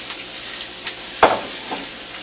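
Beef browning in a pot with onions and garlic, a steady low sizzle broken by a few stirring scrapes and one sharper clatter, close and without talk.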